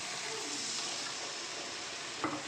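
Sizzling masala in a pan gives a soft, even hiss throughout, with a brief splash or scrape near the end as a little water goes in; quiet and with no talking.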